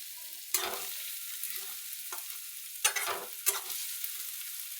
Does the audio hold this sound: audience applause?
no